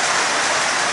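Rain falls steadily on a farm in late March, a loud, even hiss of broadband noise with no breaks or voices.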